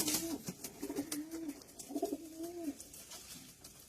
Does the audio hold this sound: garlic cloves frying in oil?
no